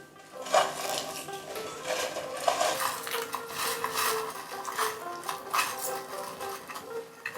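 Indian jujube berries being tossed with salt and turmeric in a metal bowl give off a steady run of clinking, scraping stirs, close and fairly busy throughout, with no voices.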